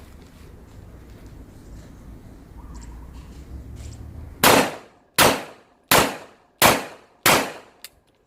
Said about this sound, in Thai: ผู้ยิงพร้อมแล้วเริ่มยิงเลยครับ